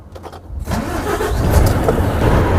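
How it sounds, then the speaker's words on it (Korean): A Volvo vacuum tanker truck engine cranks briefly, catches, and settles into a low, rumbling idle that grows steadier and louder, heard up close from inside the cab with no talking. "시동 한번 걸어볼게요."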